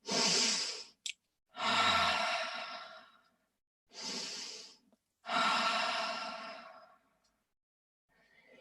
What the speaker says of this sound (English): The grounding you get from breathing from the stomach, like this.